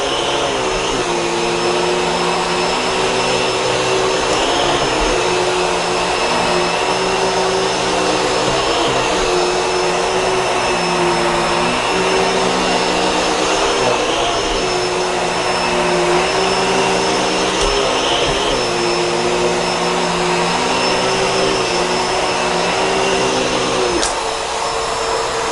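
A Bissell Pet Hair Eraser Turbo Plus vacuum cleaning carpet runs loud and steady throughout with a constant motor whine. The pitch rises and falls slightly as the head moves back and forth.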